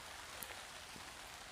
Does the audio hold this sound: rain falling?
yes